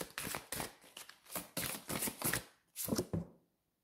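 Tarot cards being shuffled, heard as a quiet series of short papery riffling bursts in an irregular rhythm before falling silent.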